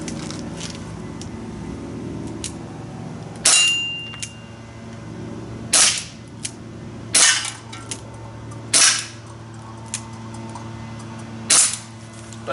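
A Crosman Mako CO2 blowback pistol fires five sharp, separate shots at irregular intervals, each a crisp snap over a low background hum.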